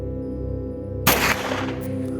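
A single sharp shot from a Beretta Model 92 SB 9mm pistol cracks out after a steady humming background, followed by a brief ringing decay.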